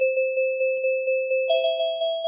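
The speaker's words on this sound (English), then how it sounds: "And the second is Small Jars." Small Jars synth preset from Ableton Wavetable: a steady pulsing tone with a fast rhythmic, time-synced flutter and a bright ringing overtone, stepping up in pitch partway through, clean and alone.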